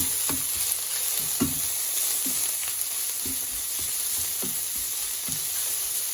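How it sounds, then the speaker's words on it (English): Ginger, garlic and basil stalks stir-frying in a hot pan for Taiwanese basil chicken, a constant close sizzle broken by regular scraping strokes of a spatula about once a second, no voices. "add in the ginger, the garlic, and the basil stalks, and give that a quick stir"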